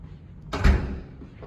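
A big Otis service elevator door at a residential building rolls and thuds shut in one loud, close slam, followed by a faint rattle.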